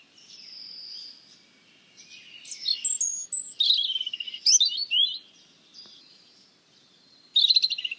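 A robin sings in a children's audiobook, bright high chirps and warbling phrases in separated bursts, clear and alone, with a trill at the end.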